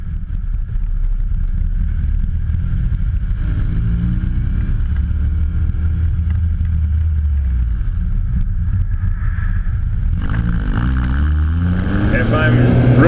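A car idles and revs through a harsh, droning aftermarket exhaust, steady and loud up close, swelling as the engine climbs near the end.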